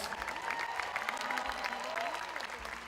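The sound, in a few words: audience applause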